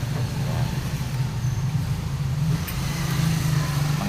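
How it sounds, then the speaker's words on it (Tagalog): A noisy Yamaha YTX motorcycle engine with worn, rough gear teeth runs at a steady idle, a dense, constant low rumble close by with no pauses. "Kaya may ingay, kala mo kung ano na yung tumutunog, tsaka yung mga gear nya magaspang na"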